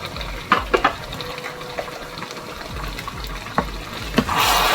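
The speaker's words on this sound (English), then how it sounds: "Just give everything a gentle stir." A spoon stirs egusi soup with shrimp in a pot, giving soft scrapes and a few sharp clinks over a wet, sloshing background.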